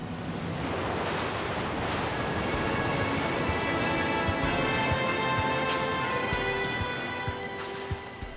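Ocean waves rush and hiss continuously as the huge cruise ship Independence of the Seas pushes through the sea at 22 knots, a loud, dense wash with wind noise and no voices.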